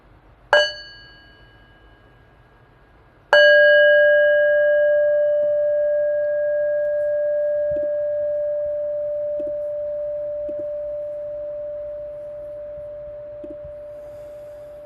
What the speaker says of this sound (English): at the sound of the bell, you can bow.